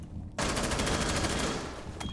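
Rapid automatic gunfire punching through a wall in Rainbow Six Siege, a sudden loud burst of closely spaced shots lasting over a second, then a brief tail and a second short burst at the end.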